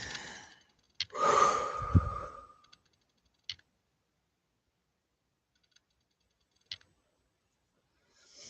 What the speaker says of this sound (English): nice deep breaths